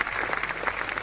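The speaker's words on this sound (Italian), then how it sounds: "Un applauso, Mariella, resta anche tu vicino" Dense applause from a studio audience at a junior singing competition final on Italian television, as a prize presenter steps forward: a brief, continuous burst of clapping, fairly loud and even.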